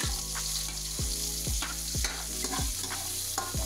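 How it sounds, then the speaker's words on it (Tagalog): Onion and garlic sauté in a hot pan, a loud continuous sizzle broken by a regular series of stirring scrapes and knocks roughly every half second, close and without speech. "Sinang sibuyas. Lagyan na rin ang bawang."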